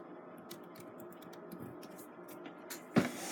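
Quiet, scattered key taps on a laptop keyboard as a password is entered, soft irregular clicks ending in one louder press.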